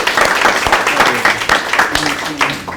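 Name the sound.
audience applause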